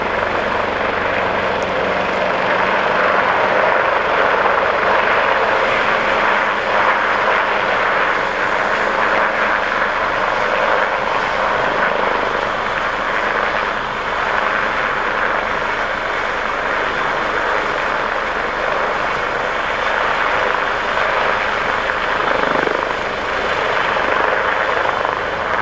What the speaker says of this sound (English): That's the second identical helicopter that's come in.